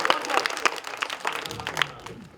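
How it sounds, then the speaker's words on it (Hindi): Applause at a theatre workshop award ceremony, several people clapping in an uneven burst of quick claps, moderately close and steady throughout. "जोरदार तालियां।"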